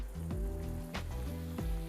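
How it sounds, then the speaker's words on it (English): Dough pastry shallow frying in hot oil, sizzling softly and steadily with a few brief sharper crackles and pops, close and quiet with no talking. "Because we're shallow frying,"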